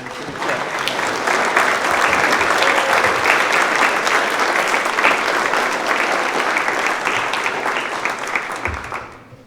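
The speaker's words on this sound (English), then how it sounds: "could I ask you to give a good St Brelade round of applause to Joe and to the church." Loud, sustained applause from a large audience at an election hustings for St Brelade deputy candidates, dense clapping that holds steady for several seconds before fading out at the end.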